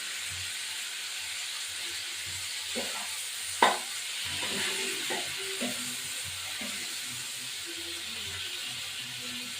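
Chopped tomatoes go into a frying giant freshwater prawn dopiaza, bringing a steady sizzling hiss with a sharp clank of a utensil and soft scraping stirs in the pan.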